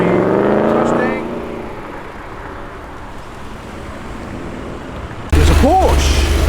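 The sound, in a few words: Nissan GTR and Ford Mustang cars revving and accelerating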